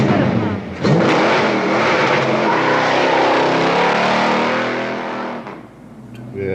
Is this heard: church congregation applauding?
no